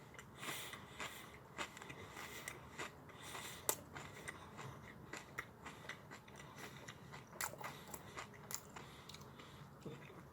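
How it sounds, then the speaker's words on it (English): Nachos crunched while eating, a faint, close run of sharp irregular bites and crunches repeating through the stretch with no talk. "I like the crunch that you get from the nachos"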